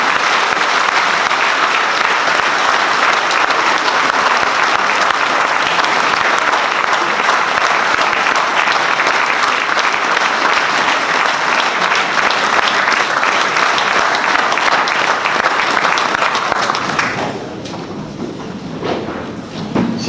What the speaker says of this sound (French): Je vous demande d'applaudir encore une fois.